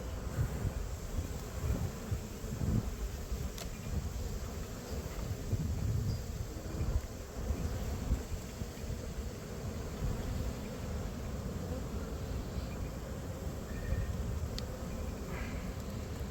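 Steady, dense buzzing of many honeybees close by at an open hive during an inspection, a continuous drone with a low rumble beneath and no talking.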